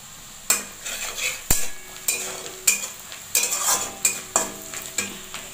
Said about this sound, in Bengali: পেঁয়াজটা ভাজা ভাজা হতে হতে আমি এর মধ্যে লঙ্কা গুঁড়ো দেবো